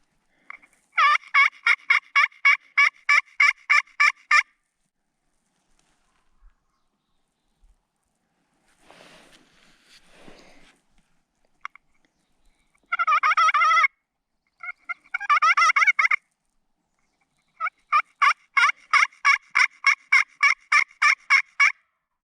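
Wild turkeys gobble in the open during a hunt: two long runs of rapid, rattling gobbles open and close the stretch. Shorter bursts of gobbling fall in the middle, with quiet gaps between them. The calls sound fairly close and loud, and no voices are heard.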